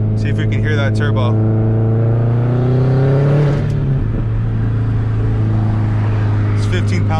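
A 2004 Subaru WRX STI pulls under moderate throttle, its engine note climbing steadily before easing off as the rpm drop. A continuous interior drone carries throughout, with brief higher-pitched whirring near the start and end.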